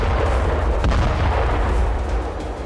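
Artillery fire and shell blasts from the Russia-Ukraine war rumble as a dense, continuous low roar with a sharper thump near the middle, loud and without voices.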